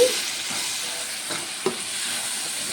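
Tomatoes cooking down in a pan for an egg, tomato and pachipappu curry, giving a steady, close sizzling hiss with a few faint utensil clicks.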